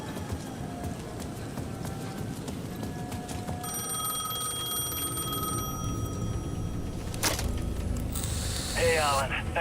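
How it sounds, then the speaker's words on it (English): A payphone rings in Alan Wake 2 in a steady electronic pattern under a low ambient hum, repeating several times before a sharp sound effect cuts in. "The payphone at the edge of the plaza was ringing again."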